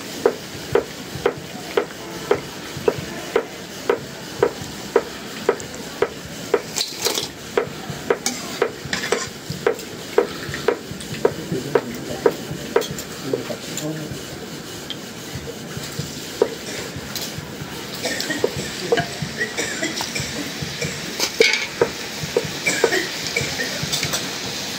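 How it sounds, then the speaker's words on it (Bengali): Pitha rice cakes fry crisply in hot oil in a pan, with a continuous sizzle broken by regular clicking and scraping strokes as they are stirred and turned, close and steady throughout. "এই দুইটা পিঠা এইভাবে ভাজা যায়"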